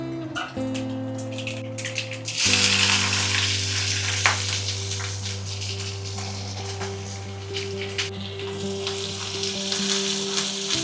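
Onions hit hot oil already holding fenugreek leaves and crushed garlic cloves for a chutney tempering, bursting into a loud, steady sizzle of frying that runs continuously after a quieter start, with no talking.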